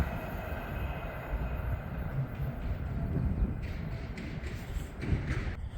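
An Avanti West Coast Class 390 train runs through a station at Berkhamsted, a steady loud rumble of wheels on rail with rushing air throughout.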